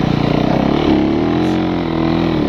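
A snowbike engine revs up and down under constant throttle control while creeping through trees, a steady loud drone with shifting pitch throughout.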